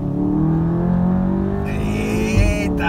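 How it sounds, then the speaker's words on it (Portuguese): A stage 2 tuned VW Golf GTI making 285 wheel horsepower accelerates hard, heard from inside the cabin, its engine note climbing steadily in pitch before a quick gear change and renewed pull. "Como puxa o carro, velho."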